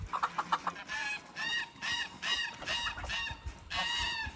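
Several chickens cluck in bursts while pecking at beet, their calls close and fairly loud over a low scratchy background, with no talking.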